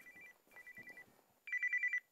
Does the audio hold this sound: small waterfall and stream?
no